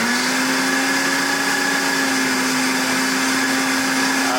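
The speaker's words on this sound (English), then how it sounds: "We're basically pureeing this until the contents are well incorporated and the kale and the scallions are pureed into your ricotta mix" A blender purees ricotta, provolone, kale and scallions, giving a loud, steady motor whir that holds an even pitch from start to finish with no talk.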